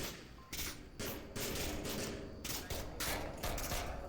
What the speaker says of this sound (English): Good retaliation fire from Nate Dizzy there.